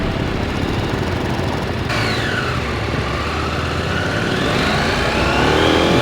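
A motorcycle rides along the road after its spark plug was cleaned and its gap widened. The engine drone is loud and steady, with heavy wind rush, and the pitch rises as it accelerates.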